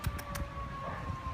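Faint sirens hold steady, thin wailing tones far off while a sudden strong windstorm blows outdoors, with a few soft low thumps close by.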